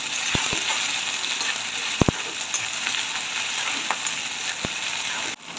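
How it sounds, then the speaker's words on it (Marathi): Crushed spice paste frying in oil with curry leaves for a chana dal bhaji, a steady close sizzle with a few sharp utensil taps against the pan as it is stirred, ending abruptly. "कढीपत्ता टाकून घेते बारीक चेचलेलं वाटण टाकून घेते छान प्रकारे मिक्स करून घेऊ"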